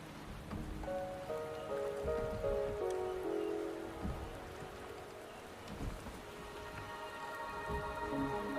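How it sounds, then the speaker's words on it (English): Rain falling in the Wuthering Waves video game, a soft steady patter of drops on surfaces beneath gentle melodic game music, with a faint rumble of thunder and no talk. "The rain is subsiding, and the sky will soon clear."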